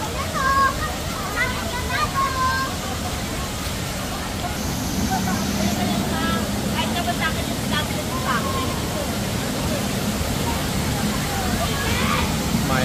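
Taytay Falls in Tanay, Rizal, where water rushes in a steady broadband roar that runs throughout. People talk over it and bird chirps come through now and then.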